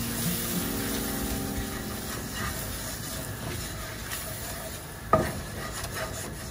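Flour is stirred into cooking food in a pan for a creamy shrimp and asparagus spaghetti sauce, making a soft, continuous scraping hiss with a single sharp utensil clack near the end.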